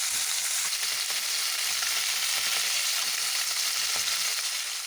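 Small carp fish, already flipped, fry in hot oil with a loud, dense, continuous crackling sizzle that holds steady throughout, with no voices.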